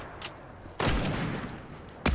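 Gunfire in the video game Fortnite: a quick early shot, then a loud sustained burst of rapid shots lasting over a second, and another sharp shot at the end, with no talk.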